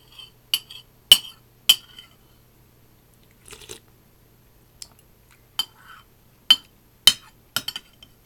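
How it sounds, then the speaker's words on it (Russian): A spoon clinks and scrapes against a plate in sharp, irregular strikes, close and loud against near silence, with a few softer clatters between. "Я очень гремлю громко ложкой по тарелке."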